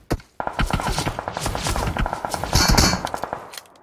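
Rapid bursts of automatic gunfire in PUBG Mobile, a dense crackling stream of shots with a louder, fuller stretch near the end and no talking.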